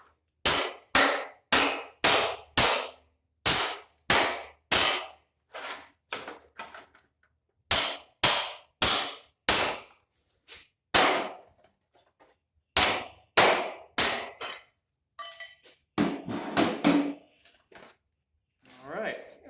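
A hammer pounds rivets out of a dehumidifier being dismantled for scrap: close, loud, sharp metallic blows in quick rhythmic runs of five or six strikes, separated by short pauses, with some rattling near the end.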